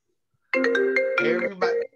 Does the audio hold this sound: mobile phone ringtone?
yes